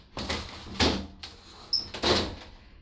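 A glass shower door in a Celebrity Reflection cruise ship veranda suite cabin slides and knocks shut several times, a few separate close thumps and rattles with quiet gaps between.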